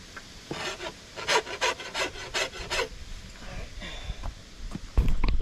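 Repeated rasping strokes of a file or rasp on a dry hickory wood bow, about eight rhythmic scrapes close up, followed by quieter scattered handling noises.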